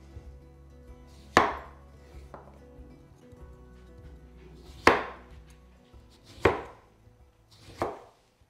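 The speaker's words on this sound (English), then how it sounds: "Now slice up a lemon." A knife cuts through a lemon on a cutting board in a home kitchen, four separate sharp chopping strikes spaced a second or two apart, close and clear against quiet background.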